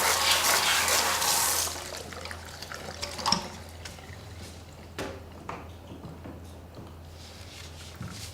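Running water from a tap pours steadily over a lace hair system being washed, loud at first and then settling into a softer trickle with small splashes and handling sounds.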